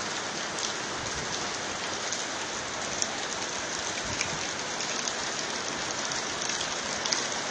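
Steady rain falling outdoors in Port Harcourt, pattering on roofs and surfaces with a constant dense hiss and scattered droplet ticks, no talking.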